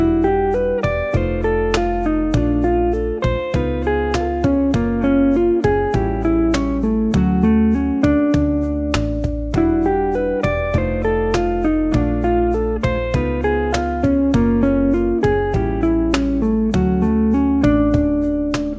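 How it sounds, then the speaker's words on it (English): A plucked string instrument plays steady flowing seventh-chord arpeggios, note after note in an even rhythm, cycling through chords with no talking. "we're going to look at some seventh chord arpeggios and how to play them through our 4-bar cycle."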